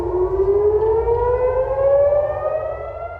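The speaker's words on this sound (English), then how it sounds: "Sirens sound across Jerusalem." A wailing air raid siren in Jerusalem rises slowly in pitch, a long sustained tone carrying over a low rumble, with no voices.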